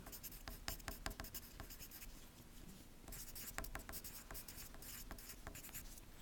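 Pencil writing on a moon phases worksheet, with quick scratchy strokes and taps in an irregular rhythm, close and fairly quiet.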